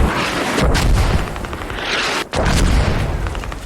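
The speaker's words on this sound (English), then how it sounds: "Mortar's coming in. Hitting pretty accurately" In a military shooter game match, incoming mortar shells land as dense, rumbling booms and crackling blasts, loud and continuous with a brief cutout partway through.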